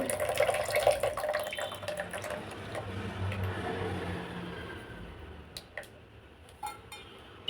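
Ground fish curry paste for a rock fish curry is poured into a pot as a close, trickling liquid pour that gradually tapers off, followed by a few sharp clinks.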